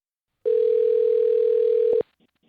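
A steady telephone dial tone sounds loud and alone for about a second and a half as a call is placed, then cuts off with a brief click.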